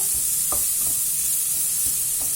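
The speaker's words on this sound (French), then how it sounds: "maintenant je vais mettre mes oignons. Je vais les couvrir et je vais les laisser cuire." Onions cooking in a covered pan give off a steady low sizzle, with a few soft utensil taps and stirring scrapes scattered through it.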